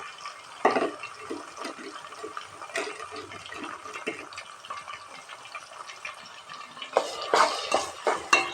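Onion, four green chillies and a tomato frying in oil in a pot for chicken curry give a constant close hiss, with spoon knocks and scrapes against the pot growing busier toward the end.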